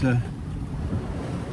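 A small sailing yacht bashes through sea waves, with a broad wash of water and wind noise rumbling steadily after a brief louder splash at the start.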